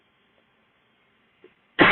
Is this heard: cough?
yes